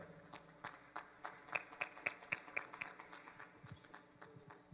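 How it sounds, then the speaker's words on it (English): Applause from an audience at an entrepreneurship awards ceremony, greeting the first class of Pettinger Foundation scholarship recipients; a steady, moderately loud patter of many hands with sharper individual claps popping out in a regular rhythm. "a round of applause for our first class of Pettinger Foundation Scholarship recipients"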